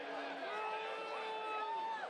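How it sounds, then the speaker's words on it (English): At a collegiate summer baseball game, a distant stadium crowd voices mild displeasure at a called strike on the outside corner. The faint murmur and groans sit under clear broadcast commentary. "Crowd doesn't love it."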